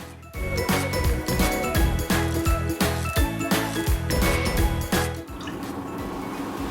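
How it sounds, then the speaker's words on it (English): About 400 grams of water pours into a cake mixture, a close run of splashing, dripping and tinkling that goes on for several seconds and then settles. "We will be adding 400 grams of water to this. We're just going to get that water right into there."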